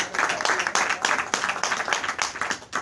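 An audience at a BSP political meeting in Husainabad bursts into sustained, close applause to welcome a speaker, a dense burst of clapping that fills the whole stretch.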